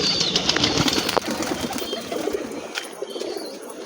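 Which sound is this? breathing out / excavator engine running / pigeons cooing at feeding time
pigeons cooing at feeding time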